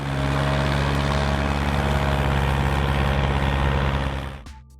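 A Ford 5000 tractor's diesel engine idles, a loud, steady low rumble with a constant even throb that continues unbroken before dropping away abruptly near the end.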